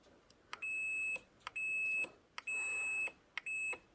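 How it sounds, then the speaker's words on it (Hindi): A multimeter continuity buzzer sounds during an Oppo phone repair, giving four steady high-pitched beeps of about half a second each, evenly spaced, each starting with a small click, with no talking. "जैसे प्रेस करेंगे तो यहाँ पर बजर बजने"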